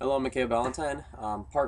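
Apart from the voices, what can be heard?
None of the usual background noises is heard.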